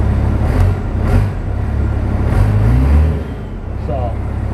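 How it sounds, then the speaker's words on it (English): Truck engine idling inside a smoky shop after airbox work, with a steady close low drone and brief swells, while a voice talks faintly over it. "Truck's running smooth"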